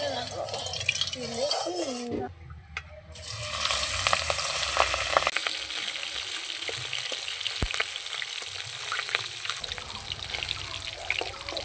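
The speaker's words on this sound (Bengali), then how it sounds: "লবণ হলুদ মাখানো মাছটা এবার ভাজা করে নেব" Salt-and-turmeric-rubbed fish frying in hot mustard oil on a stove, a steady close sizzle and hiss that briefly dips near the start and then runs on loudly, with occasional clicks from the pan.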